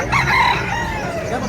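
A rooster crows close by at a busy market in Malabon, a loud, strained call lasting just over a second with faint crowd noise beneath.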